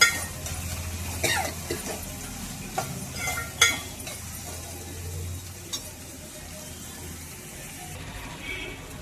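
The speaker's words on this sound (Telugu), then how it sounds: "చూడండి వేగుతున్నాయి ముక్కలు. ఇలా వేగాలండి." Vegetable pieces fry in a pan for bottle gourd curry, giving a steady soft sizzle with a few sharp stirring clinks and scrapes. No one speaks over it.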